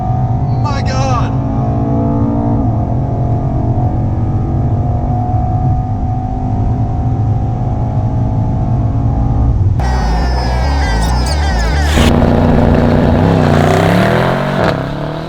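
A 2018 Mercedes-AMG E63S launches hard with launch control on a gravel-dusted road, its engine roaring loud and close and climbing through gear shifts, with excited voices over the acceleration.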